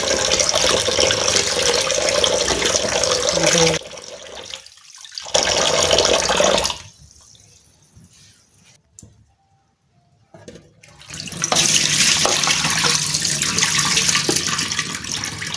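Raw goat liver washed by hand under a running kitchen tap, a loud steady gush of water splashing close by, broken by a short stop and a quieter stretch before the flow returns.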